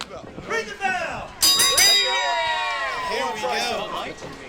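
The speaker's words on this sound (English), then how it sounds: "Ring the bell." A wrestling ring bell clangs at a live independent wrestling show, ringing out sharply in several quick strikes with a sustained metallic tone while commentators talk over it.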